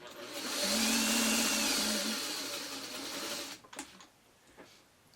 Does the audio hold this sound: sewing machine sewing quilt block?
yes